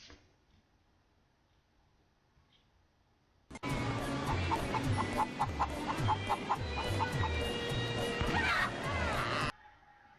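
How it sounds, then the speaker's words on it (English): Chickens cluck and squawk in the Crash Tag Team Racing video game, a sudden loud burst of rapid overlapping clucks that starts after a quiet stretch, runs for several seconds and then cuts off abruptly. "Crash has an infinite amount of chickens that are also in his pants."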